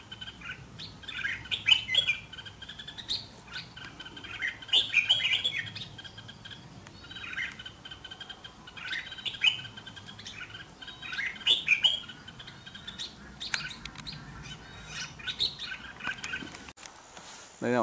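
Red-whiskered bulbuls (merbah jambul), a pair overhead, give repeated bright chirping calls in short bursts every few seconds over a low background hum, with no talking.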